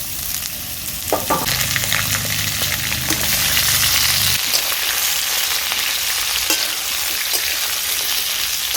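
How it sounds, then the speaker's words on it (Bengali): Pumpkin pieces tipped into a pan of frying potatoes set off a loud, steady sizzle, with clatter and stirring scrapes as the vegetables land, and the sizzle carries on evenly through the clip. "এবার এতে আমি দিয়ে দেবো মিষ্টি কুমড়োর টুকরোগুলো"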